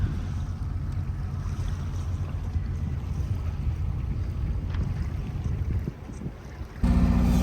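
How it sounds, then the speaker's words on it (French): A sailboat's engine drones steadily as it motors out of port, with wind and water noise around it, then briefly drops before a louder low rumble returns. "je sais pas si vous entendez, mais là on est au moteur"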